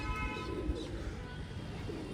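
Loft pigeons coo in a steady, low throb beneath a dense, constant wash of background noise, with no distinct break across the short stretch.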